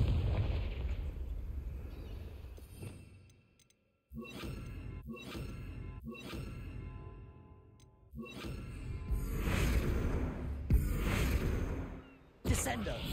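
Booming game explosions from the Confringo spell in Hogwarts Legacy, several heavy blasts in succession with rumbling tails, heard under ongoing game sound and voices.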